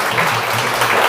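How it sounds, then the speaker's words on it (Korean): A church congregation at Sunday worship claps to welcome back a deacon after major surgery, a short burst of indoor applause with a faint murmur beneath it. "우리 박수로 환영해 주실까요?"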